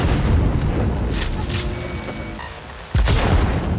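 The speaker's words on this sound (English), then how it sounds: "I mean, just listen to this sniper." A Cyberpunk 2077 sniper rifle fires heavy booming shots, one early and another sharp blast near the end, loud and close with rumbling tails.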